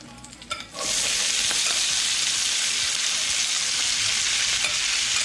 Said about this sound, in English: we're going to cook all this corn and all that fat we rendered out of the meats